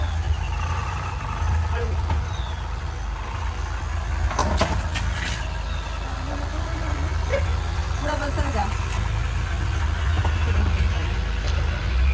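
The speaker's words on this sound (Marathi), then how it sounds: "ही अशा प्रकारे गाडी काढायची आम्हाला इथनं." A car's engine hums steadily throughout as it is eased out of a tight village spot near a temple, a low continuous rumble with a few faint knocks and clatters.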